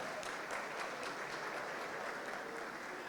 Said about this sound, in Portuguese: Juliana Flores, uma salva de palmas